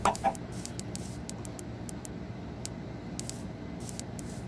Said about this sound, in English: Chickens, come to Papa.